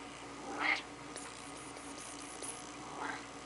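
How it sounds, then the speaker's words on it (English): A house cat gives two brief meows, the first stronger and the second softer, faint over a steady indoor background hum with no talking. "we like our kitty"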